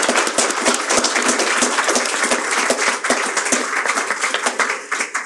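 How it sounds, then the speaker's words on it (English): A campus library audience gives presenters a big round of applause after a talk on the history of Irvine and UCI, dense close clapping filling the room, loud and continuous before tapering slightly. "Please join me in giving them a big round of applause."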